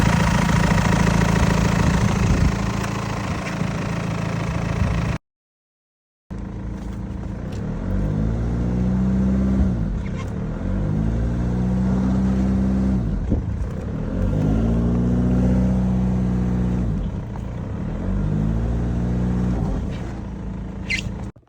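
A damaged Audi A4 engine runs with its turbo not spooling, a steady close idle with a rough, pulsing rhythm that swells and fades in repeating cycles, broken by a brief cutout of about a second.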